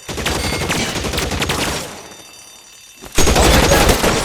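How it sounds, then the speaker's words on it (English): Suppression gunfire in L.A. Noire on PS5, dense close bursts of rapid shots that fade to a lull and then resume loudly in a fresh volley. "Suppression fire."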